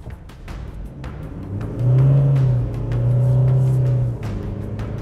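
Car climbing sand dunes on tyres let down to 25 psi, engine revving hard and straining in a loud sustained drone that rises and holds, close by with no talk.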